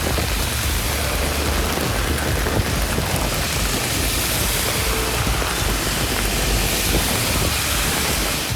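Heavy rain pours down steadily across towns of Ranipet district, Tamil Nadu, as a dense, unbroken hiss of drops drumming on surfaces, loud and close throughout with no voices.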